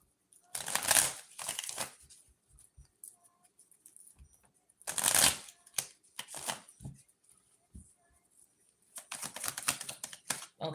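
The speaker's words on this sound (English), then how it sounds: "let's pull some cards and see what else come out" Tarot cards shuffled for a Leo energy reading, heard as three separate bursts of riffling, close and fairly loud, with quieter card handling and taps between them.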